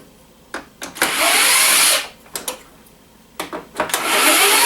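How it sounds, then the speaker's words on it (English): A power tool whirs in two bursts, about a second each, separated by short clicks and handling knocks, while screws are driven out of mostly plastic household scrap with a metal part. "Let's take these screws out."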